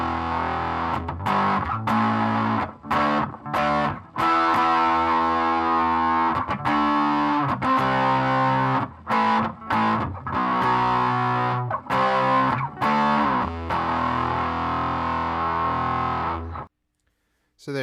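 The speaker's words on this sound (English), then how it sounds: "That is the Arion SMM-1 Stereo Metal Master." Electric guitar driven through an Arion SMM-1 Stereo Metal Master distortion pedal, heavily cranked and brutal, playing loud chugging riffs with choppy palm-muted stops and sustained chords before cutting to silence at the end.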